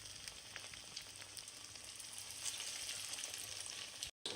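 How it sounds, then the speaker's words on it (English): Fish cutlets shallow frying in piping hot oil in a pan give a steady, faint, crackling sizzle that runs continuously, with no voices, before cutting off abruptly. "In a pan, heat up oil until it's piping hot and place your fish cutlets."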